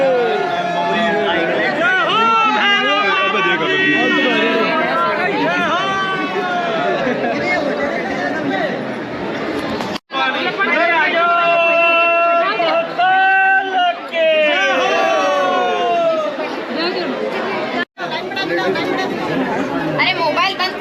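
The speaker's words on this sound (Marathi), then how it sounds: "खूप तर रांग वाटायला आहे, गर्दी खूप आहे इथं." Dense crowd chatter from a long queue at Kal Bhairav temple in Ujjain, many overlapping voices close by, loud and continuous with only a couple of brief drops.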